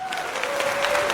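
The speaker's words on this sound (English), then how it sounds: "Please give him a round of applause." An audience applauds to welcome a former NFL prospect onto a talk show, with steady, close clapping from a small crowd over about a second.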